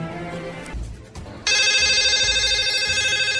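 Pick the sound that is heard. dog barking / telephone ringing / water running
telephone ringing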